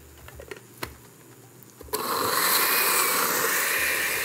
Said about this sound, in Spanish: Vamos a licuar.